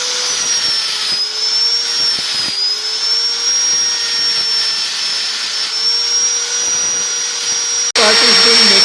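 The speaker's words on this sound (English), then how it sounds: "So he is machining the entire area." A lathe machining the welded areas of a driveshaft, giving a steady high-pitched whine with a constant hum underneath, nearby and loud, changing abruptly near the end.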